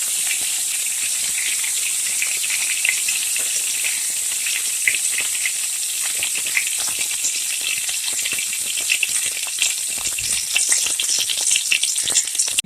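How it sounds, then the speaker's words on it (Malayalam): Mustard seeds crackle and sizzle in hot oil in a pan for a Kerala-style prawn masala, a dense, steady hiss with fine popping throughout, close and loud with no talking. "നമ്മൾ ആ എണ്ണയിലോട്ട് ഫ്രൈമിൽ തന്നെ നമ്മുടെ ചട്ടി ഒന്ന് മാറ്റിയിട്ട് നമ്മൾ കടുക് ഇട്ട് കൊടുക്കാം"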